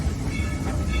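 Dollywood Express steam train in Pigeon Forge, Tennessee, rolling along its rails with a steady low rumble and rattle that stays loud and continuous, no voices over it.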